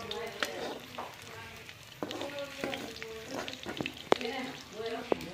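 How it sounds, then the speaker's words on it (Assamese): Fish frying in hot oil, with a dense close sizzle broken by stirring scrapes and sharp clicks, while faint voices murmur in the background. "এইফালে মাছ ফ্ৰাই কৰি আছে"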